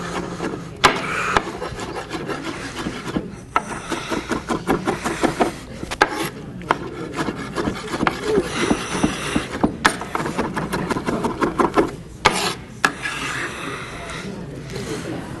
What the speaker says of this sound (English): I'm going to go ahead and chop them pretty finely.